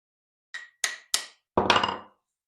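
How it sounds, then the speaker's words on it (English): A brass-tipped hammer striking steel in a woodworking shop, four bright ringing metallic taps close by, three short and evenly spaced, then a fuller blow that rings out longer, with silence between. "I like the sound of the brass more on the steel."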